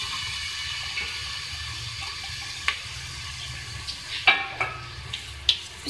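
Two medium-sized onions sizzle in hot oil for a home-style hotel sabzi, a steady hiss and crackle running throughout with a few sharper pops and clicks toward the end, no one speaking.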